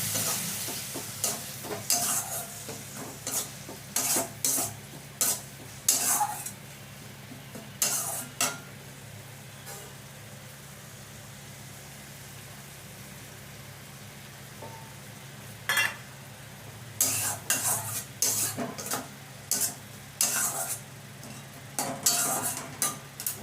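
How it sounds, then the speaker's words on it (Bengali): Chicken simmering in a pan with a little added water for a chicken roll filling, soft steady sizzle under repeated stirring and clinks of a utensil against the pan in bursts, with quieter pauses between. "এবার একটু সামান্য জল দিয়ে দিচ্ছি ভালো করে সেদ্ধ হওয়ার জন্য চিকেনটা"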